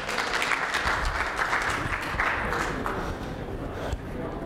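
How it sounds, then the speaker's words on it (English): Sustained audience applause at an investor presentation as a company CEO is welcomed to the stage, a dense, steady wash of clapping from a large crowd throughout. "Please give him a round of applause."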